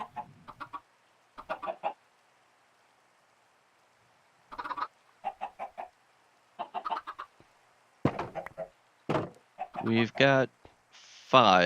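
Minecraft chickens and a rooster in Sky Factory 3 cluck in irregular bursts, then louder squawking calls build near the end, with brief talking in between.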